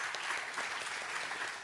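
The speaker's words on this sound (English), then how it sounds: "I never thought Roger Veer will get applause from this group" An audience at an open-source meetup applauds with a continuous, even wash of clapping hands from a medium-sized group, moderately loud and without speech.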